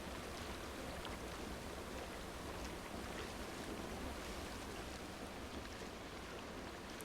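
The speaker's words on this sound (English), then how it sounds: "It is raining." Rain falls in the Planet Coaster 2 video game as a dense, even hiss of steady downpour, constant and fairly faint throughout, with no voices.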